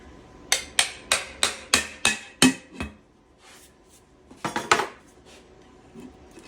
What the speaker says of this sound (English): Let's go get chisel and separate that.